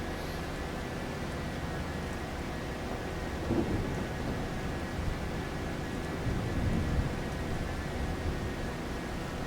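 In the video game Farming Simulator, a thunderstorm pours steady, hissing rain while low thunder rolls and rumbles beneath it, loud and continuous with no voices.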